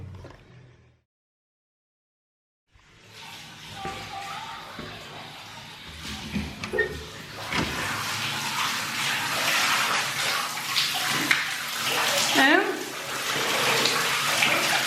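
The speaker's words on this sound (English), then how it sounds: "Finally, shower." A shower fed by borehole water starts up after a moment of silence, then runs as a steady rushing spray that swells and stays loud and close until the end.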